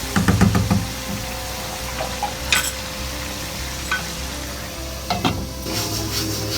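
Chicken simmering with tomatoes in a pot over medium-low heat for palak gosht, giving a steady bubbling sizzle with a few utensil clinks and stirs, close and continuous.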